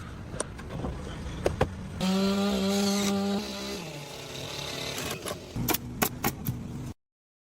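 A chainsaw trims the edges of logs for a window opening on a forest house under construction: its engine revs loud and close, then drops, with sharp clattering knocks toward the end.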